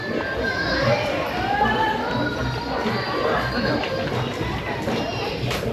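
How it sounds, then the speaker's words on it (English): A dense night-market crowd at a floating mosque in Kota Kinabalu, Sabah, Malaysia, where many overlapping voices form a steady wash of chatter, with children's voices and faint music blended in the background. "you can get a sense of the crowds around here"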